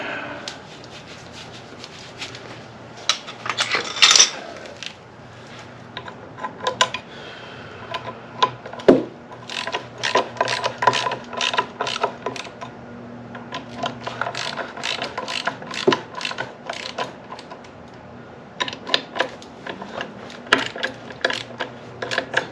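A ratchet works on bolts on an Opel engine, giving repeated bursts of sharp, close clicking strokes with short pauses between them and occasional metallic knocks, while a voice is heard faintly now and then.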